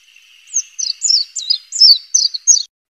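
A white-eye bird (burung kacamata) in the wild chirps a quick run of about seven bright, clear notes, close and loud against otherwise quiet surroundings, ending abruptly.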